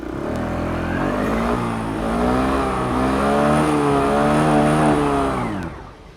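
A 2021 Aprilia SXR 125 scooter with a side-hung single-barrel exhaust idles and is revved, a steady close engine drone rising in pitch and swelling through the middle, then dropping back near the end.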